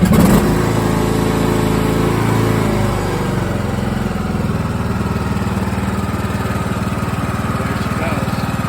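A Craftsman 21-inch lawn mower engine catches and settles into a steady, loud running drone close by, its pitch dropping slightly after the first few seconds.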